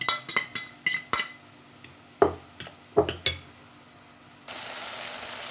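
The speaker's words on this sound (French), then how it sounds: "Je coupe les, les 3 œufs durs, des petits morceaux" A knife cuts three hard-boiled eggs into small pieces for a Tunisian tajine, making a quick run of sharp taps on a board that turns sparser, then gives way to a steady soft hiss.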